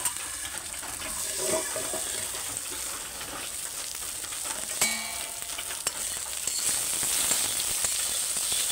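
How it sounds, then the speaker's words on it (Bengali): Eggplant frying in hot oil, a steady close sizzle with occasional stirring scrapes and pops. "বেগুনটা একদম ভালো করে ভেজে নিয়ে তোমার দিকে দেখাচ্ছি"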